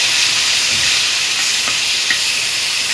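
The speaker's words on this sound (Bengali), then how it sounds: "আমি এখন এটা রান্না করার জন্য পেঁয়াজ দিয়ে দিলাম" Onion and crushed whole garlic frying in hot oil for a dried fish curry, giving a steady close hiss and sizzle with no voices.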